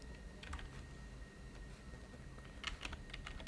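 Keys tapped on a computer keyboard while a variable name is typed: soft, close clicks in a short opening burst, a pause, then a denser flurry near the end, with no talking.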